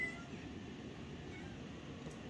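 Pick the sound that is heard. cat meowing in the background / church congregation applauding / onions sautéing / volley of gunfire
cat meowing in the background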